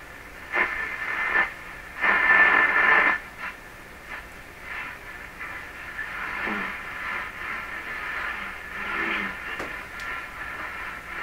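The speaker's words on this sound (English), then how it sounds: "Make sure I hear that atmospheric noise." Crackling atmospheric static from a Rogers Majestic (Philips) RM503 farm radio hisses steadily, with bursts of louder noise and faint tonal whines, no voices.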